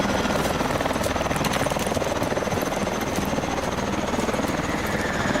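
Helicopter in the military shooter game Advanced Warfare, a steady loud rotor and engine drone with rapid chopping pulses that runs continuously throughout.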